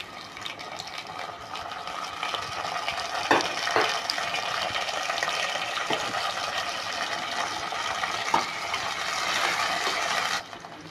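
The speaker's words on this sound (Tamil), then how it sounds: "தக்காளி பொடியாக நறுக்குனது அதை போட்டு வணக்கிடுவோம்" Soft sizzling and stirring of chopped tomatoes in a pan, a steady low frying hiss with a few light scraping clatters, no voices.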